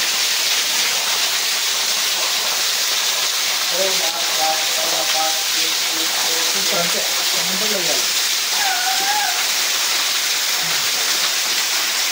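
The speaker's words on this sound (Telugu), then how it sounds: "మేము వచ్చిన తుంబురు తీర్థంలో వర్షం చూడండి" Steady, heavy rain hisses throughout at Tumburu Theertham waterfall, a dense wash of noise with voices talking faintly beneath it.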